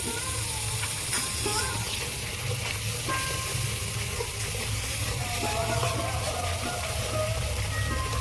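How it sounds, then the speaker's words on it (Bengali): Mustard gravy stirred and frying in a pan, a steady loud sizzle with faint scraping and clinks from stirring running throughout, no talk. "এই গ্রেভিটা আমি ভালো করে এইভাবে নাড়িয়ে নাড়িয়ে কষিয়ে নেব"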